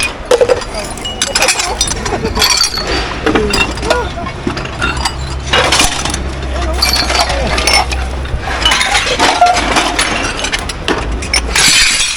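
Glass items in a dumpster clink and jangle as they are handled and shifted about, with repeated sharp knocks and rattles close by while people talk nearby.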